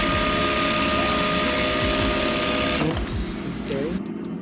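High-speed single-needle industrial sewing machine on a test run, a loud, fast continuous mechanical rattle and hum that slows and drops off near the end, with a voice speaking over it.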